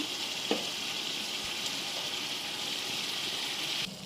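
Chicken, coriander and mint fry in biryani masala, a steady sizzling hiss with a faint stir or clatter early on, ending abruptly; no one speaks.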